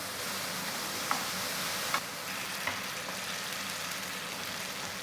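Ingredients toast and sizzle in a pan over low heat, giving a steady dense frying hiss with a few faint ticks and pops and no talking.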